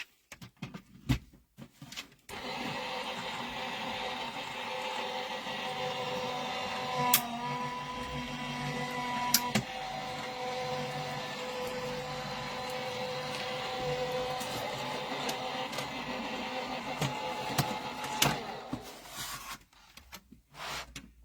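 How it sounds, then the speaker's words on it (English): A loud, steady mechanical whirring and rasping from a die cutting machine runs for about eighteen seconds, with a few sharp clicks along the way, then stops. "that's going to go through the die cutting machine"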